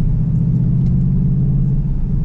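2022 Roush Mustang with a six-speed manual idling in neutral, a deep steady low rumble that stays loud and even throughout, with no revving.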